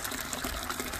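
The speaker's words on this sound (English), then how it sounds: "Yes, I have water. That is a wonderful sound." Water gushes from a thawed outdoor tap into a bucket during morning farm chores, a steady close rushing and splashing with no voices.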